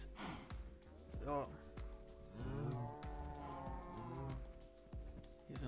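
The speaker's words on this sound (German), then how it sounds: "Hier sind unsere Kühe. Die freuen sich, dass ich wieder da bin." Blocky cows in Minecraft moo repeatedly, several drawn-out lowing calls close by, overlapping with someone talking throughout.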